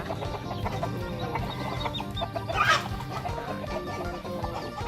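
A flock of fighting-breed chickens in farm pens clucking and squawking steadily close by, with a louder burst of squawks partway through.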